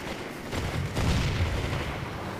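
Enemy gunfire in a video game, a dense run of booming shots blending into one another at steady loudness, with a heavier burst of reports near the middle and no voices over it.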